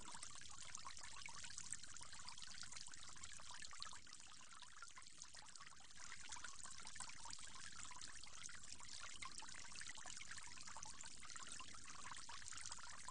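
Water poured for rinsing during wudu ablution, a continuous close splashing stream that runs steadily for the whole span with only a slight dip midway, no voices.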